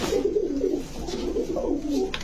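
A Bagha pigeon coos in soft, low, rolling phrases, repeated several times close by with little else around.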